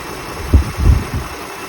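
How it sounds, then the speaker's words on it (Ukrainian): A 2011 Toyota Highlander engine idling at close range, giving a low, steady rumble with a few slightly stronger pulses and no voices. "Послухаємо, як працює у нас мотор."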